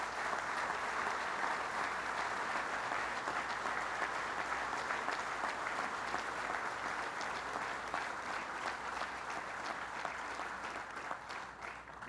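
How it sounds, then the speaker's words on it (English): A crowd at a 9/11 memorial event applauds, a dense, continuous wash of clapping holding steady for the whole stretch, fairly distant and evenly sustained before thinning slightly at the end. "Let's give them a round of applause"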